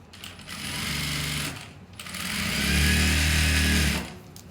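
A sewing machine stitches piping onto a kameez in two sustained loud runs of rapid needle chatter, separated by a short pause and ending abruptly.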